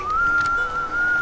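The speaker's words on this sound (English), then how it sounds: "That's a whistle." A single sustained whistled tone, steady and fairly loud, holding one pitch with a slight dip near the end.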